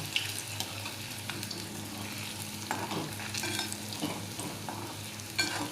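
Upvas kachori frying slowly in moderately hot oil over a low flame, a quiet continuous sizzle with occasional soft stirring clicks and scrapes, no voices.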